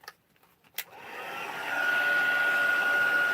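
Hair dryer blowing over wet paint on an art sheet, starting after a few soft taps and rising into a steady, close, continuous whir with a thin whine, no talking.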